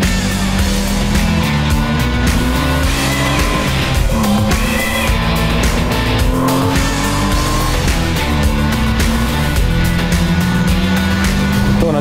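A Porsche accelerates hard through the steep banked curve of the Aldenhoven test track, its engine drone rising steadily in pitch, loud and close throughout with no talking.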